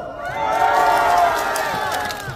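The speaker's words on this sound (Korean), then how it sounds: "저 뒤에만 함성!" Crowd at the back of a live comedy show shouting a sustained cheer, a loud massed roar with whoops that swells and holds throughout.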